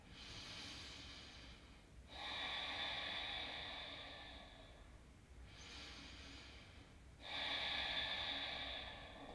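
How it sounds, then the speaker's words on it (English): Slow, deep breaths during a yoga session, each long airy inhale and exhale close to the mic in an even, unhurried rhythm with short pauses between, no talking. "Let's take 3 more breaths here."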